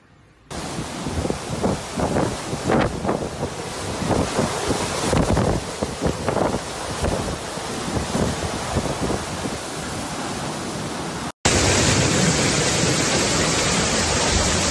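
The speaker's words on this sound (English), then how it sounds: "A severe storm hit Sicily, Italy, caused heavy rain," Strong storm wind in Sicily, Italy, roaring and buffeting a microphone with a steady rush and gusty surges throughout, followed at the end by a louder, harsher burst of wind noise.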